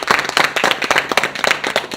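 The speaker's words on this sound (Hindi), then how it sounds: "भैया सर के लिए, उपेंद्र सर के लिए एक बार गड़गड़ाहट बजाइए, जोरदार तालियां" A crowd claps enthusiastically at a network marketing gathering in India, giving dense, steady, loud applause throughout.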